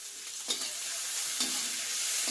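Shrimp sizzle in hot oil as they are stirred, with a continuous crackling hiss broken by soft scraping sounds at regular intervals.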